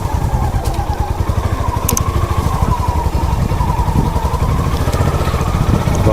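A motorcycle engine chugs loudly nearby with a rapid, steady thump, its pitch rising and falling slightly as the bike pulls away and rides off.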